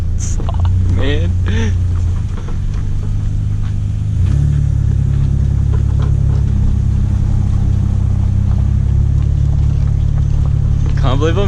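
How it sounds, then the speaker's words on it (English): Nissan R31 drift car with coilovers running in the bush, a loud steady engine drone with a deeper rumble that steps up partway through, stays close, and is overlaid by brief sounds near the start and end. "Can't believe I'm driving a full drift car in the bush."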